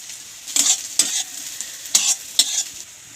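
Onion, carrot, ginger, garlic and green chili fry in a wok, with a soft steady sizzle broken by about four quick, bright scraping stir strokes spaced unevenly.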